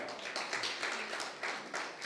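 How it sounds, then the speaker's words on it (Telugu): A church congregation claps to thank the worship team, steady dense applause from many hands sounding somewhat distant and soft, with no voices over it. "వారందరికీ మనము అభినందనలు తెలియజేద్దాము మన క్లాప్స్ ద్వారా"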